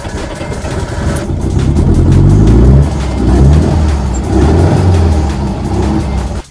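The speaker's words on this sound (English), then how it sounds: "We need to start the engine." An old Soviet Moskvich pick-up in rat-look condition, its engine caught on a cold start with the choke pulled, settles into a loud, steady, rough idle with uneven throbbing pulses, close up and with no talking.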